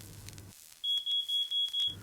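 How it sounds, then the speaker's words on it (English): Smoke alarm giving a series of five loud, sharp electronic beeps in quick succession, clear and close after a brief quiet moment. "Is there a working smoke alarm?"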